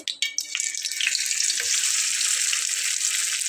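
Thin slices of raw potato drop into hot oil for crispy aloo pakora; a few sharp clatters open, then the frying swells into a loud, steady bubbling sizzle heard up close.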